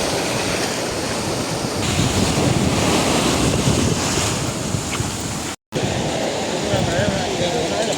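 Strong wind buffets the microphone over steady surf at the shore, a continuous roar with one brief dropout near the end.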